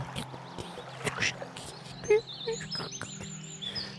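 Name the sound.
forest ambience with birds chirping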